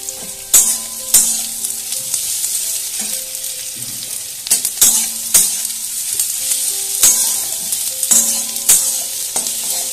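Grated garlic sizzles steadily in hot oil as it goes into a homemade curry, with sharp clanks of a utensil stirring against the pan recurring every second or two over the frying hiss.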